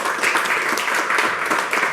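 Audience clapping at an Indonesian televised discussion on online gambling, a dense steady patter of many hands, moderately loud and continuous.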